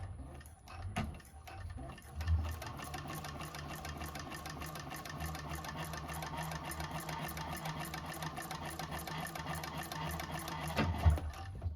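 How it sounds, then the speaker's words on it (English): A 1341 cylinder-arm sewing machine stitching across a bag's back panel, a steady fast mechanical rattle that runs for several seconds after a few handling clicks, then stops with a soft thump. "let's go over to the sewing machine and put this back panel together"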